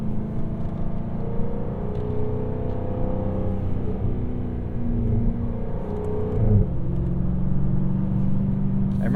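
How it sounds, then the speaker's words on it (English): A 2023 Jaguar F-Type R Coupe engine revs with a steady, loud rumble and rising whir as the exhaust valves open, pitch climbing and falling across several seconds, heard from close by without talk. "You can hear like the valves open"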